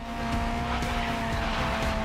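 Race car in the Grid Legends video game, engine droning steadily at high revs with tire squeal running under it, loud and continuous with no talk.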